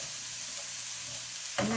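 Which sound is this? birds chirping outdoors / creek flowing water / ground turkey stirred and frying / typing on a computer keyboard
ground turkey stirred and frying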